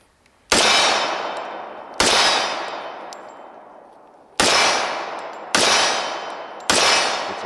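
A Standard Manufacturing 1911 pistol fires five loud, sharp shots at uneven intervals, each a sudden crack followed by a long ringing decay that fades before the next round.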